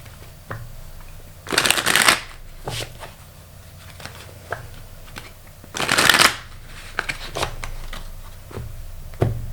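A deck of playing cards being shuffled in two loud riffling bursts, each followed by quieter taps and handling sounds, close up with no talking.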